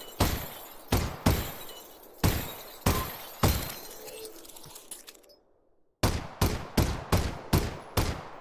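Targets smashing as they are shot in the VR game Half-Life: Alyx, a rapid series of sharp shattering impacts with a brief gap before a faster final run of about seven crisp hits, each with a short ringing tail.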